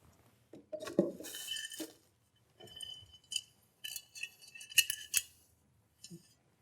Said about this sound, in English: Now you're ready to put the lid on.